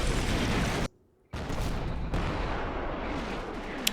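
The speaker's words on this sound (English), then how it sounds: "an American mortar barrage starts coming down" An American mortar barrage in the wargame Combat Mission brings dense, rumbling blasts and crackling impacts, loud and continuous apart from a brief silent gap.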